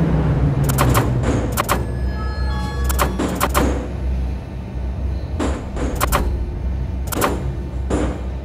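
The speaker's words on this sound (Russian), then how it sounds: "Осторожно, двери закрываются." Doors close on an 81-717 metro train, with a run of sharp mechanical clunks and clatters spaced irregularly over a steady low rumble of the carriage.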